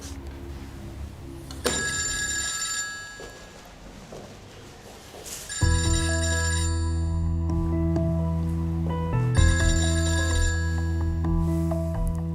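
A mobile phone ringtone rings loudly in a tonal, repeating melodic pattern, cutting in partway through and continuing over background music, with no talking.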